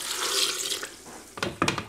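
Water poured into a container as the liquid for a sugar-free, fat-free vegan apple cake with cashews and dates, a steady splashing rush followed by a few shorter, louder gushes near the end.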